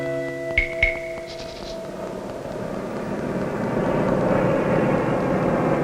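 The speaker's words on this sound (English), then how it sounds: "Float planes have opened new vistas with transportation on the highways of the sky." A float plane flies over a forest, its engine drone building into a steady, broad roar that grows louder toward the end, following a few brief sharp clanks at the start.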